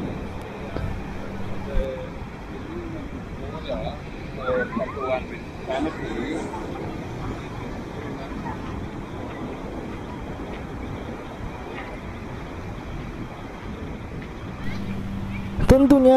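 Afternoon beach ambience on Bali with foreign tourists strolling: a steady wash of surf and wind noise, distant crowd murmur and voices, with occasional louder bumps near the end.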